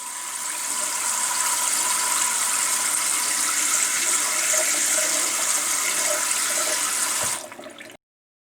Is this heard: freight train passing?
no